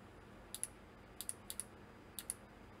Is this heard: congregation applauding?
no